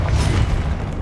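A Confringo blasting spell goes off in Hogwarts Legacy during a boss fight, producing one loud, heavy, low boom that rumbles on steadily for about a second with no speech.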